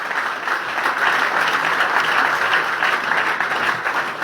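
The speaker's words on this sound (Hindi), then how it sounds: "तो खुद ताली जोरदार बजाइए।" An audience applauds loudly at a business training event, dense steady clapping that fills the room without pause.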